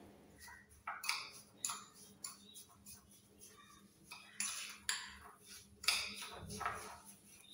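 Salt and liquid fabric conditioner stirred together in a bowl, spoon scraping and clinking against the sides in repeated strokes, close and fairly quiet, with no voices.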